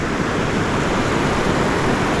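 Small, low-energy ocean waves on a Pacific coast crabbing spot wash in as a steady broadband surf roar, loud and close, with some wind noise on the microphone.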